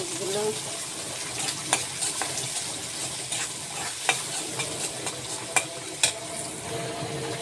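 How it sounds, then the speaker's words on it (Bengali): Onions, garlic and green chilies fry in oil for a jute-leaf and lentil dish, a steady close sizzle punctuated by several sharp spatula knocks and scrapes on the pan, with faint kitchen background noise. "এখন পেঁয়াজগুলা ভালোভাবে লাল লাল করে ভেজে নিব"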